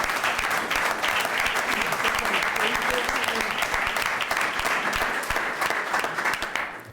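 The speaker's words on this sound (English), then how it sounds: "Can we get a round of applause?" A room full of people at a college board of trustees meeting gives a round of applause, steady, even clapping throughout, with faint voices mixed underneath.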